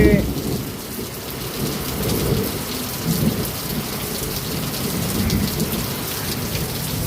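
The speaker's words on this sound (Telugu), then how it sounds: "ఈ వర్షం మాత్రం బీభత్సంగా ఉంది" Heavy rain pours down in a steady, dense hiss, and low rumbles of thunder roll beneath it in the early morning storm.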